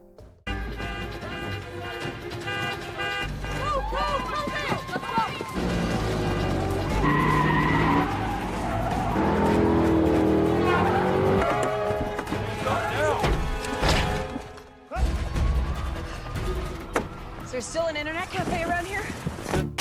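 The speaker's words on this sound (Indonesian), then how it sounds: "mereka pun bergegas kabur dengan mencuri mobil militer yang berada di depan lapas" A stolen military car speeds away in a movie scene, with tires skidding and squealing over a revving engine, loud and sustained, mixed with music and other soundtrack effects.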